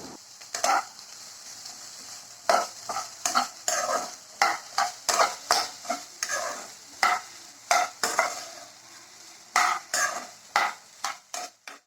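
Okra, carrot and drumstick pieces sizzle in a hot pan while a spatula scrapes and stirs in repeated strokes, a soft frying hiss running underneath.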